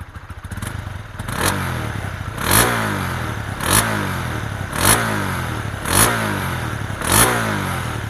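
A Honda CB150X motorcycle revs its engine in six evenly spaced bursts, each throttle blip rising sharply then falling back to a close, bassy idle between them.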